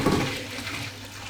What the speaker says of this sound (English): got a strainer, beans are going in there